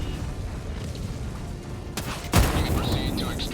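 Grenade blasts in a shooter video game, with a sudden heavy boom that rises partway through, then rumbling and crackling gunfire over a busy background of battle noise.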